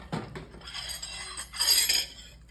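Metal utensils scrape and clink against a dish while cheesy food is scooped and served, with a louder stretch of scraping toward the end and no voices.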